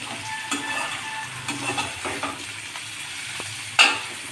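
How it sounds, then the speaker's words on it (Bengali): Tomatoes frying in a pan, with a quiet sizzle under occasional soft stirring scrapes and a sharp utensil clink near the end, heard close with no talking. "এবার আমি 1 মিনিট মতো একটু নেড়ে নেব।"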